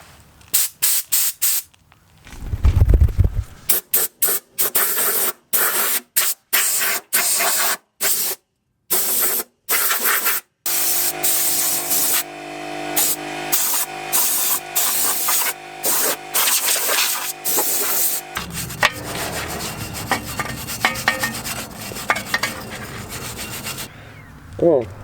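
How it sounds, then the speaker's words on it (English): Compressed air hisses through freshly connected air line fittings in a home garage shop, starting as rapid bursts and short blasts, then settling into a sustained loud hiss with a low hum underneath. "Now that's not a leak, that's just the air filling up the holes."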